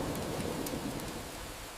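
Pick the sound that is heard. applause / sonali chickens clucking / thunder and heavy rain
thunder and heavy rain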